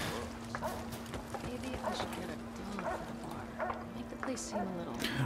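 A dog barks and whimpers in the Dauntless video game, with repeated short yips and bow-wows throughout, set against a steady ambient hum.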